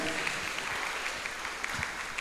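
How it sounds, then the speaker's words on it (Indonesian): Applause from a crowd at a university student orientation event in Indonesia: dense, steady hand-clapping that fills the room, with no voices over it. "Kalau itu tepuk tangan ya"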